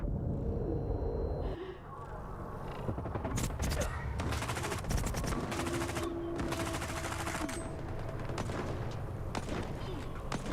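Dense gunfire in the video game S.T.A.L.K.E.R. 2, rapid bursts and volleys of shots that keep up throughout with a brief lull near the start, a faint voice low in the mix.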